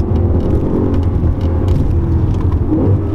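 Audi RS5 driving through curves, its engine holding a steady, loud, close low drone with tire and road rumble throughout and no pauses.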